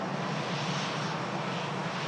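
Lufthansa Airbus A320 departing Manchester Airport for Frankfurt, a steady broadband jet roar at moderate distance, continuous and even throughout with no voices.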